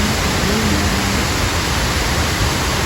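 A waterfall at a farm spa in Mimbalot, Iligan City pours in a steady, dense broadband rush, loud and constant without a break.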